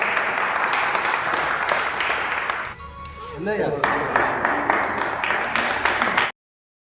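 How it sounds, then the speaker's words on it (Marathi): Audience applause at a disability-service foundation event in Chhatrapati Sambhajinagar, a dense steady clapping that stops briefly, then returns strongly before cutting off. "तरी जोरदार टाळ्या झाल्या पाहिजे"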